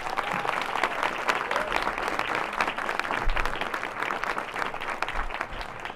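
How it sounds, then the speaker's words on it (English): Sustained audience applause for Mayor Turner at a Houston Latino cultural announcement, a dense even patter of many hands clapping steadily throughout at moderate level. "let's give a round of applause to Mayor Turner"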